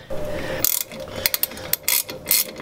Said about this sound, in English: I'm just tightening up and snugging up the calipers